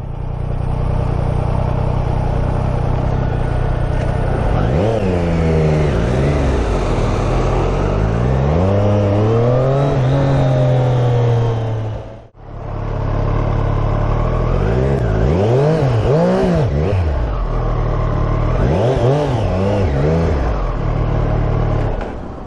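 A Triumph Street Triple RS motorcycle with a 123 hp engine revs hard and close, pitch sweeping up and down in repeated blips, with a brief cut in the middle before the revving resumes.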